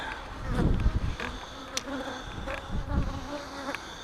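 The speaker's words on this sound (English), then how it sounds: "there are several bees coming and going there" Bees buzz close by around a hive, several insects droning and passing the microphone in short overlapping hums as they come and go, with no one speaking.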